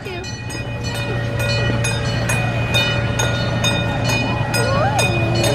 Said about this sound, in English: Choo-choo train, boys.